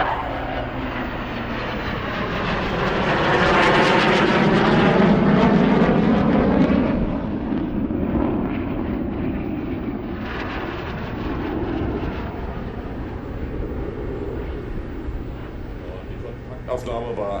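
Eurofighter Typhoon jets at the 2016 Berlin airshow, heard as a loud broad jet roar that swells to a peak around the middle and then holds steady, with a narrator talking over it.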